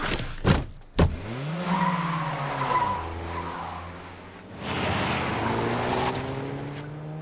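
Engines roar and tires screech through a fast vehicle chase, with sharp impacts early on and a sustained whine of revving motors throughout.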